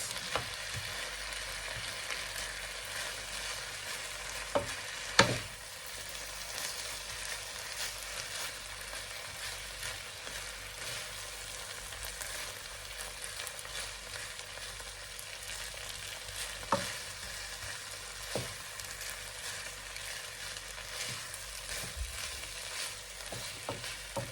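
Chicken paella fries in a pan while being stirred, a steady low sizzle with occasional sharp utensil clinks and scrapes against the pan, close and continuous with no talking.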